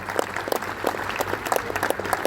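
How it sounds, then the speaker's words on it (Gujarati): An audience at a Lions Club Gujarati music event breaks into brief applause, a short burst of rhythmic, fairly close clapping that cuts off abruptly. "આપણા માટે તો તાળી થવી જ જોઈએ."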